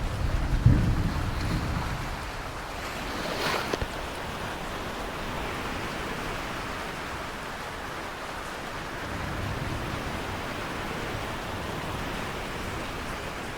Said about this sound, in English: When is the storm gonna pass?